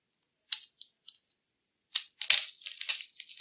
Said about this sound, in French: Je vais donc goûter cette petite pomme d'amour.